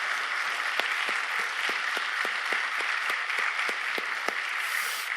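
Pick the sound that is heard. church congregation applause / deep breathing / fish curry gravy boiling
church congregation applause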